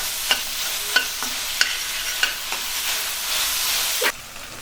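Vegetables sautéing over high flame with a splash of vinegar for vegetable fried rice, giving a steady bright sizzle punctuated by a few sharp spatula clicks and stirring scrapes, close and alone without talk.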